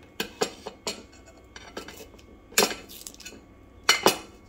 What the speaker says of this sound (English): I'm just going to cut it, let's say, about here.